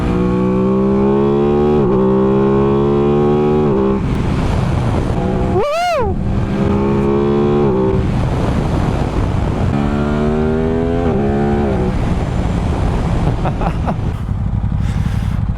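A new motorcycle engine revs repeatedly, its pitch climbing and falling in loud, close sweeps, with a sharp high whine partway through and a steady idle between pulls.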